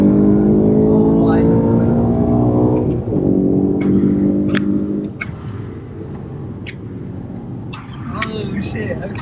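A hard-driven BMW E92 M3 on Airlift 3P air suspension pulls away with a loud, rising engine note that swells over the first few seconds and then eases off, while a person speaks briefly.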